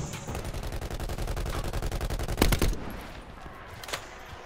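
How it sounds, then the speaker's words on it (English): Rapid automatic gunfire from the Black Ops 4 beta video game rattles steadily for about two and a half seconds, ending in a couple of heavier close shots, followed by a quieter lull and one more distant shot. "I'm still being shot at"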